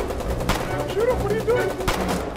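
Gunfire in the video game Foxhole: several sharp shots and short bursts ring out at moderate volume while voices talk over them.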